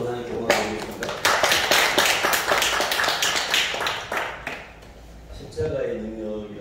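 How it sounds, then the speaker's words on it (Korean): Church congregation clapping together in praise of God during a sermon service, a burst of loud rhythmic claps that swells, thins out and fades, followed by a short sound near the end. "박수로 하나님께 영광드리겠습니다."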